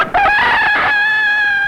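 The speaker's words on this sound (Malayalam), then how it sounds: "ഭൂഗോളത്തിന് മുകളിൽ നിന്ന് ഈ പൂവൻകോഴി നീട്ടിക്കുവിയത്" Rooster crowing as a studio logo, one loud close drawn-out cock-a-doodle-doo with a long sustained final note, heard alone.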